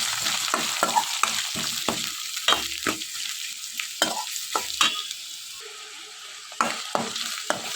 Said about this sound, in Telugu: ఆనియన్స్ కూడా వేసుకుని ఇవన్నీ కూడా బాగా వేయించుకోవాలి